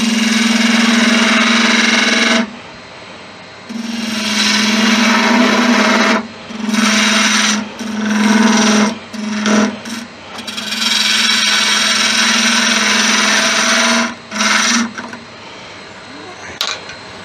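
A large piece of driftwood spins on a lathe while a gouge roughs out a snowman shape, giving loud, close scraping bursts that stop and start repeatedly over the steady hum of the machine.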